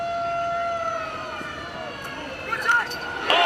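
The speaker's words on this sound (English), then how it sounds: "Hear the sirens." Wailing sirens rise and fall in the distance, several tones overlapping, with a lacrosse crowd murmuring and brief shouts underneath, at a Syracuse vs Princeton quarterfinal game in New York.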